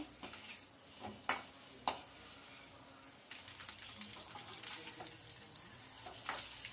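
Hard-boiled eggs frying in a pan on a low flame, a steady soft sizzle with two sharp clicks early on and occasional stirring scrapes, close and alone without talk.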